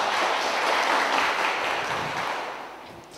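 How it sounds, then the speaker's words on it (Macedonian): A school audience at a regional energy quiz breaks into brief applause, loud at first and fading out over a few seconds. "Аплауз."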